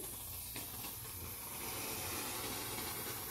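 Steam hisses steadily from a clothes iron pressed onto woven weft fusible interfacing, a soft continuous rush that is close but fairly quiet, with no talking.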